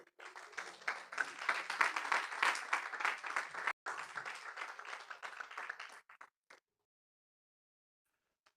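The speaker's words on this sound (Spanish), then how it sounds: "Ese aplauso." Congregation applauding in a church service, a quiet, fairly close burst of hand clapping with an uneven rhythm, lasting about six seconds with a brief gap, then tapering into scattered last claps and silence.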